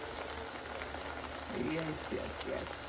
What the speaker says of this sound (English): here I'm frying some plantains